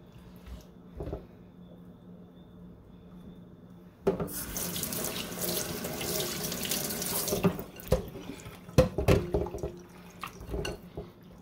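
Tap water gushes into a kitchen sink as pork is washed, a steady low run that swells into a loud, full splash for a few seconds, then settles into clattering handling and drips.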